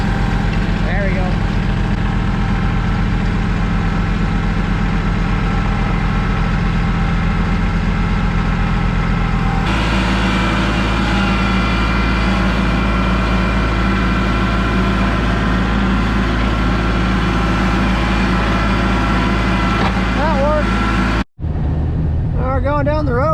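A truck engine runs steadily while driving along a snowy road, a loud continuous low rumble that shifts in tone partway through, then cuts off abruptly near the end before faint noises return.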